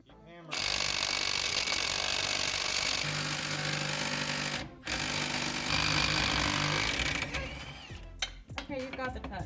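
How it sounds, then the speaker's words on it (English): An air hammer drives the stub axle out of a Datsun 260Z rear hub in loud, rapid bursts of metallic hammering, nearly continuous with one short break midway, then trailing off into scattered clanks. "You have to use the air hammer to get that stub axle out."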